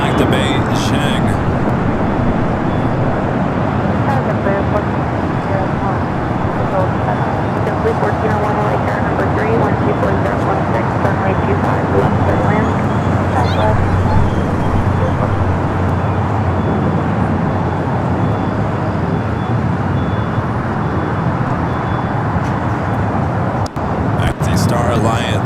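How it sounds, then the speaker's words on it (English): An Air China Boeing 777 rolling down the runway for takeoff at LAX, a sustained engine rumble that swells slightly midway, with people talking over it. "Also, the Air China 777 and now rolling down."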